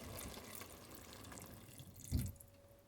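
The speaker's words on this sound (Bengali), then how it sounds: "আর একটু জল অ্যাড করছি" Water is poured from a tap or jug into a pot of cooking khichuri, a soft steady trickle followed by a brief louder splash near the end, faint and close with no talk.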